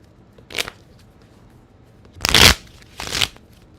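Playing cards shuffled close up in three quick riffling bursts, a short one followed by two longer ones, each crisp and distinct against near silence with no talking.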